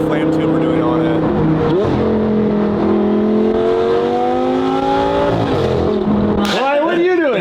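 An off-road supercar engine fitted with a flame tube exhaust revs loudly and close up, the pitch climbing and falling through long sustained pulls with sharp blips near the end.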